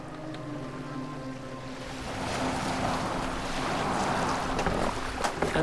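Viking longship from Assassin's Creed Valhalla gliding over open water, with a steady wash of waves and wind swelling louder partway through, plus faint tonal game hum underneath and no voices.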